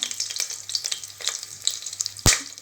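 Egg biryani base frying in a pan, with a steady crackling sizzle, scattered pops and one sharp clink near the end, close and unaccompanied by talk.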